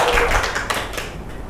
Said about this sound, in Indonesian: Kita beri tepuk tangan untuk Mbak Gafira.